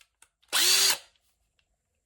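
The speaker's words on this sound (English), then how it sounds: "we got the hex drill. It still works." A Craftsman 20V cordless hex drill runs in a single short, loud burst of about half a second, its motor whine rising and holding before cutting off, with near silence around it.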